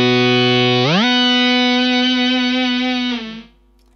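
A Boss SY-200 synthesizer pedal's pitch effect bends a buzzy, distorted synth tone up an octave, holding a steady sustained note near and loud before it fades out.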